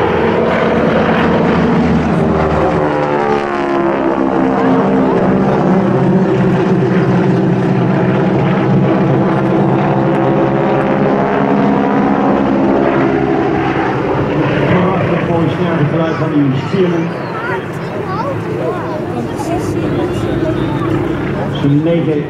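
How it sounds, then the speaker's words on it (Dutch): A nine-cylinder radial engine on a wingwalking biplane drones loudly and continuously, its pitch sweeping down and back up as the aircraft passes overhead at an airshow, and voices can be heard now and then. "Zo'n 9 cilinder radiaal motor die daarin ligt."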